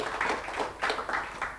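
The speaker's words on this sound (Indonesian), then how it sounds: "Tepuk tangan lagi dong buat video ini" Audience at a church-style fellowship talk claps briefly, a short burst of scattered hand claps in a few uneven waves, moderately quiet with no speech over it.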